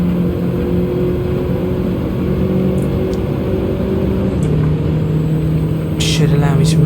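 A racing car engine in Gran Turismo 7 at Deep Forest Raceway, chasing a Renault Megane, droning loudly at steady high revs with a pitch drop near the middle and tire or brake squeal near the end.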